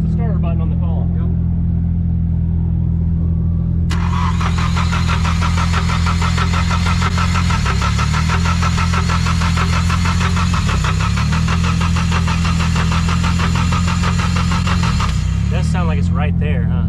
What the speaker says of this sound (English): Just push the starter button on the column.